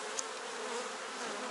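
Bees around queen cells inside a hive, a faint, steady broadband hum of many wings, close and continuous with no voices.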